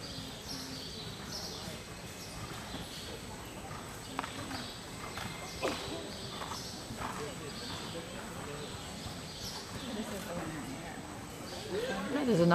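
Horse hooves clip-clop at a hunter show ring, a faint scattered rhythm of footfalls in the background while people talk and comment over it.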